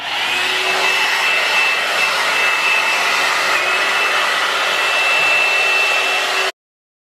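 A cheap hot air brush blow-dries hair with a steady, loud whining blower hum, close by and unbroken for several seconds before it cuts off abruptly.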